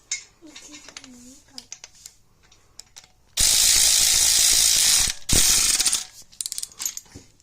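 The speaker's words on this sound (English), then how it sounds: "and then I'll hand tighten them down" A ratchet tightens engine bolts in a short burst of fast clicking pawl strokes that stops and resumes, close and loud, with quieter metallic handling before and after.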